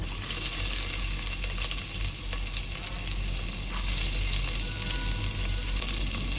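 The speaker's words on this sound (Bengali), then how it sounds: "ফোড়নটা হয়ে এসছে, এবারে পেঁয়াজগুলো দিয়ে দেব।" Onions sizzling in hot oil over spices such as fenugreek, the base for a bottle gourd and fish curry, a steady, loud frying hiss that runs throughout with faint stirring.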